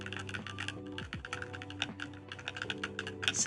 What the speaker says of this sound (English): I can actually type while doing this.